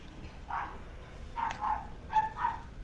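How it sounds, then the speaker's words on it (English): Dogs bark three times at spaced intervals, faint and somewhat distant, over a low steady background hum. "Shut your dogs up, Ryan."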